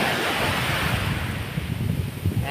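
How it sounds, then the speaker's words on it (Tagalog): Sea waves at a beach in Iba, Zambales, facing the West Philippine Sea, roll in as a steady, broadband surf wash mixed with wind buffeting the microphone. "Ayan yung dagat. Yan yung West Philippine Sea dyan"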